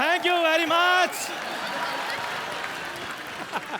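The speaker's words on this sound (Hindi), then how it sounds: "आप सबकी जोरदार तालियों के बीच" Studio audience on a TV comedy show bursts into applause welcoming an Indian tennis star, a loud dense wash of clapping that rises after a brief sung or spoken voice at the start and carries on steadily.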